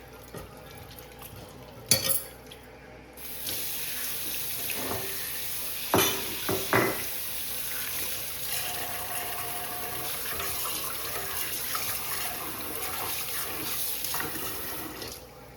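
Water running and splashing as meat is rinsed with a little turmeric in a home kitchen, a steady close wash with a few sharp clatters and splashes near the start.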